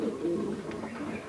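Giribaj pigeons in a loft give a short, soft low coo close by, and a faint voice sounds in the background.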